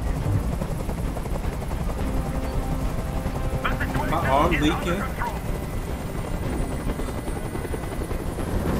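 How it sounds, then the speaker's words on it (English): A helicopter hovers overhead in the video game Detroit: Become Human, a steady, dense rotor roar running unbroken throughout, with a voice speaking briefly over it. "I can't stand that noise anymore. Tell that helicopter to get out of here."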